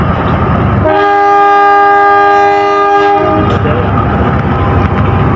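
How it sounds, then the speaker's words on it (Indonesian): Matarmaja passenger train at Blitar station, its horn blaring in a loud sustained harmonic blast for about two seconds over rumbling rail noise and station ambience. "Bertemu dengan kereta api Matarmaja di stasiun Blitar."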